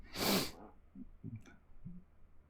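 A single loud, sharp sneeze bursts out close by, followed by quieter snuffling and breathing sounds.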